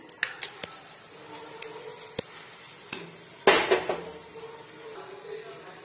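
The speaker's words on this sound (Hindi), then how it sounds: "ये सारा पल्प मैंने इसमें निकाल लिया है" Apple pulp scraped into a warm kadhai with a metal spoon, a few sharp clinks and taps against the pan, then a louder scraping clatter midway, with quiet room background between.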